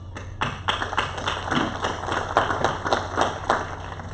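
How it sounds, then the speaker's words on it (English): Scattered clapping from an audience at a county candidates' forum, honouring law enforcement and military, as a thin, uneven patter of individual claps over a low steady hum. "I think they deserve a nice round of applause."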